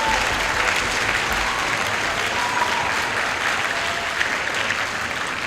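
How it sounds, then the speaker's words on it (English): Orchestra spring concert audience applauding, a dense, steady wash of clapping from a full hall that holds evenly throughout. "Can we give a round of applause for the NHIPA"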